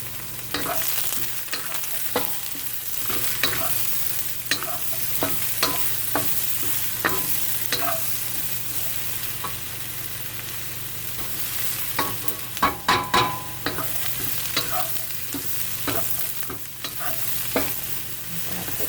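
Serrano peppers sizzle steadily in a basil eggplant stir fry, with a constant frying hiss broken by frequent sharp clicks and scrapes of stirring, loudest in a cluster near the end.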